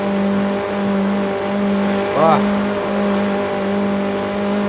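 A Lancer Evo 9 in CarX Street drones at steady revs with a sustained harmonic engine tone, then briefly rises and falls in pitch as a gear is shifted mid-clip; someone speaks briefly over it.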